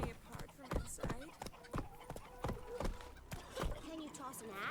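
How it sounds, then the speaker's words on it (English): Horses trot in The Witcher 3, their hooves clopping in an even, close rhythm while characters speak over them, with a faint whinny-like tone in the mix. "Horses."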